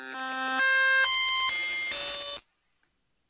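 NES square wave channel tones from a compiled Nintendo ROM, played through laptop speakers into a microphone: a loud, buzzy run of steady pitched notes stepping upward in quick succession, then cutting off abruptly.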